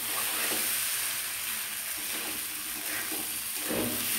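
Rice in a pot with cold water added, cooking for a festive bhog, gives a steady loud bubbling sizzle that runs without a break, close by, with no voices.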